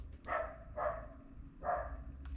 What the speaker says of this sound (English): the dog barking over there's got me.